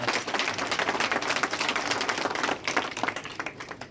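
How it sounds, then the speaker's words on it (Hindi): A crowd claps continuously at a political gathering in Ambala Cantonment, dense steady applause that stays fairly loud throughout before thinning slightly near the end. "तालियां बजाकर"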